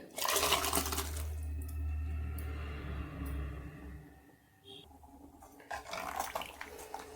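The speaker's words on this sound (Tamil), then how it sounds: "இப்போ இந்த பருப்பில் ஊற்றிக்கலாம்" Boiled radish and its cooking water are poured into cooked lentils for sambar, a splashing, gurgling pour that runs steadily for a few seconds, eases off, then resumes briefly, fairly faint and close with no talk.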